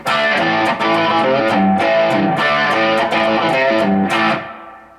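A distorted electric guitar with an 80s hard rock/metal tone plays a chugging riff with sustained, ringing chords and a reverb tail that fades out at the end.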